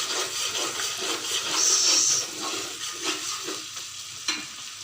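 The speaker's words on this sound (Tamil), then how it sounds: "அதை போட்டு கிண்டிக்கலாம்." Ginger-garlic paste is stirred in a hot cooking pan, a continuous sizzle under steady scraping and rubbing strokes close by, with no speech.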